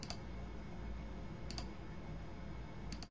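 A computer mouse clicks during work in Illustrator CS5, a few sharp double clicks spaced about a second and a half apart over a steady background hiss.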